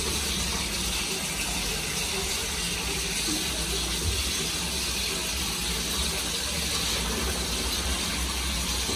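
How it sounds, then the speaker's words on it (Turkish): Water filling a storage tank that feeds a pump connected to PVC drain pipe, a constant steady rushing hiss with no breaks, moderately loud throughout. "Şuradan açalım suyu. Depo dolsun."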